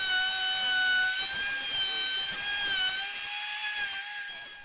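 A wood router set with turret depth stops whines steadily and loudly while cutting a mortise into inch-thick (25 mm) stock for a Morris-style chair arm, holding a constant high-pitched motor tone throughout.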